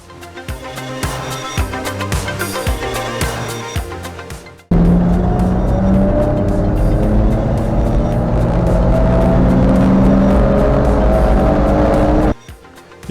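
A BMW E46 330ci track car with a 3.38 differential pulls hard in third gear, engine note loud and steady with rising harmonic tones for about eight seconds, after a shorter stretch of gear-change pulses and engine sound.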